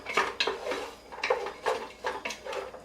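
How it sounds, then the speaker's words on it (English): A utensil knocks and scrapes against a pot while sautéing over a flame for New England clam chowder, giving a run of close, rhythmic clinks and clanks at a moderate level. "So I'm going to turn the fire back on. Saute it a little bit, let it do its thing."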